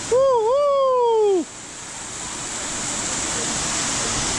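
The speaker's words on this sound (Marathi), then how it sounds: "हेच आहे तो वॉटरफॉल" Bhorgiri waterfall near Bhimashankar gives a broad, steady rushing roar that swells gradually, after a brief drawn-out vocal exclamation at the start.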